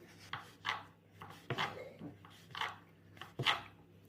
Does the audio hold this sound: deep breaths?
no